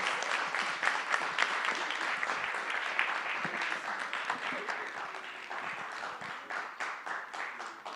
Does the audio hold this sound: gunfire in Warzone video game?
no